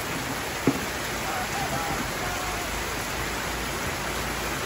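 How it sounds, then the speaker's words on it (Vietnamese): Heavy rain pours down steadily in an even, dense hiss with no letup, broken once by a single brief sharp knock near the start. "Quá trời đã mưa lớn."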